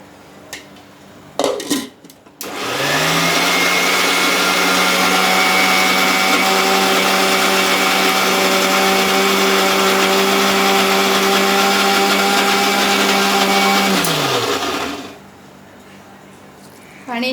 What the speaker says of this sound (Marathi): मिक्सरला वाटून घेऊया आता।